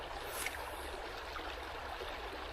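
A low creek trickles and gurgles in a continuous, even wash of running water, close and moderately loud, with no voices present.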